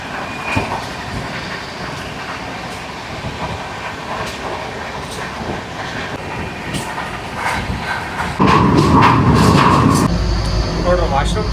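Inside a Shatabdi Express on the Pune–Hyderabad run, a steady interior rumble of the moving coaches with faint rail clatter fills the cabin, rising louder near the end, with people talking over it.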